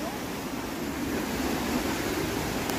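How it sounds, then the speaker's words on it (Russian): Pystill waterfall in Wales pouring down rock steps, a constant broadband rush of falling water that stays loud and even throughout. "извергается вот этот водопад"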